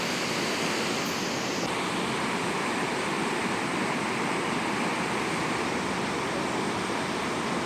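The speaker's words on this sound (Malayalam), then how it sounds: "അതിങ്ങനെ അരുവി പോലെ ഒഴുകി പാറയിൽ കൂടെ ഒഴുകി" Water from the Palaruvi waterfall streams over rocks in a dense, continuous roar, close and loud, with no talking.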